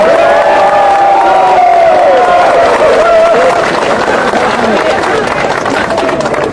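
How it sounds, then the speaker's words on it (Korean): A political rally crowd at a Korean protest event roars and cheers continuously, with applause and shouted voices blending into a loud, dense wall of sound that holds steady throughout. "뜨거운 함성과 박수로 맞이해주시기 바랍니다"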